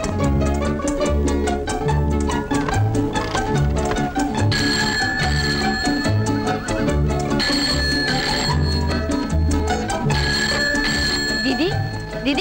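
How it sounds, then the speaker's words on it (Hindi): A telephone rings in a repeating electronic ringtone pattern, loud and close, with music-like tones cycling several times. "फोन बज रहा है"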